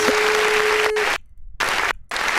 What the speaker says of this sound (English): let me hit that clap button real quick